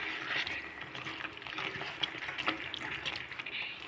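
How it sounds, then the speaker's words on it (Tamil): Water splashes and trickles steadily into a pot of mutton gravy, a continuous wet hiss with small bubbling bursts, close by and fairly quiet. "தேவையான அளவு தண்ணீர் சேர்த்துக்கோங்க"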